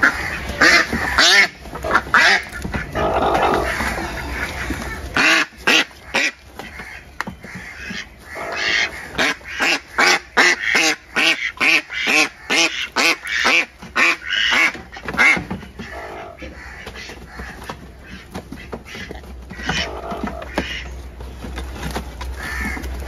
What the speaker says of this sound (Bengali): এগুলো আমাদের ঘরের পালিত হাঁস